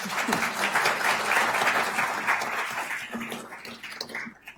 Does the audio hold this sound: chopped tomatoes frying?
no